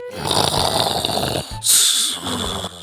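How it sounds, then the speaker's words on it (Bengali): A father lying asleep snores loudly and close by in a comic Bengali sketch, with long rasping breaths broken by a sharp, whistling snort midway. "এ তো নাক ডাকছে না মনে ট্রেনের হরেন পড়ছে"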